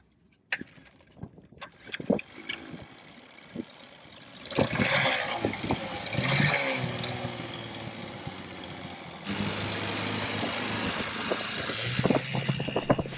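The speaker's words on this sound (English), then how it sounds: "Finally, the outboard's running good and our dinghy is back in business." A dinghy's outboard motor runs steadily after its carburetor trouble is fixed, a continuous drone that grows louder and fuller partway through and holds there to the end.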